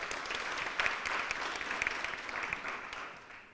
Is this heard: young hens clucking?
no